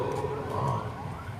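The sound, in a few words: ambulance siren passing by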